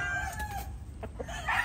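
A rooster crows once nearby, a drawn-out tonal call on a farm where breeding fowl are kept, followed by a few short clucks.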